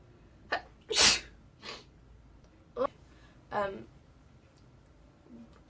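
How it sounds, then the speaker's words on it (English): A single loud sneeze bursts out close by, followed by a few quiet breaths and small vocal sounds. "I just sneeze."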